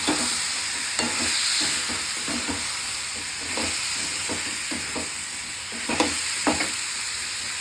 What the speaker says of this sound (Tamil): இப்போ வந்து உருளைக்கிழங்கு போட்டு வதக்கணும்.